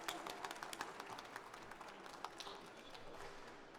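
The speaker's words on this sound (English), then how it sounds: "please join me in one loud round of applause for these three exceptional women" Soft, distant applause from a crowd at an award presentation for outstanding women in supply chain, an even patter of many hands clapping throughout.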